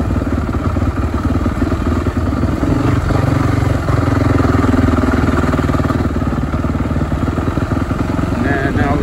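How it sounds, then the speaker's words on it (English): An ATV engine drones steadily while pulling a rake to clear rocks off a trail, with a loud, continuous mid-pitched rumble and some clatter close by, and a person speaking over it. "ATV, and he's pulling a rake that he's pulling the rocks off."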